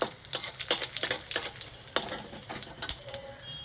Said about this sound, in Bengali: একেবারে তেজপাতা, শুকনো লঙ্কা আর জিরে দিয়ে দিলাম ফোড়নে